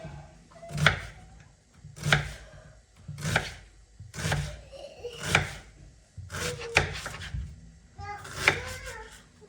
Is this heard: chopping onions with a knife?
yes